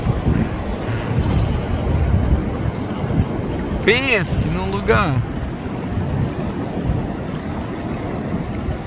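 Fast river water rushes loudly past a boat near a waterfall. The broadband roar is continuous and is briefly overlaid by a short spoken phrase.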